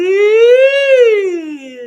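A singer performs a vocal siren exercise, one sustained voiced tone gliding smoothly up from chest voice into head voice and back down. The voice imitates a siren, close and loud, with no other sound.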